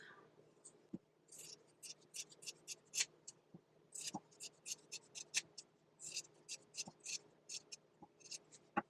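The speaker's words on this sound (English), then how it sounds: "I'm going to cut this into thin strips." Scissors snip red felt into thin strips for a firecracker craft, a rapid series of crisp, close cuts in quick irregular rhythm, fairly faint, with no talking.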